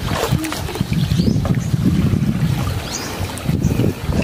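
A small boat is paddled without an engine, with close, uneven splashing and knocking of water against the hull under heavy wind buffeting the microphone.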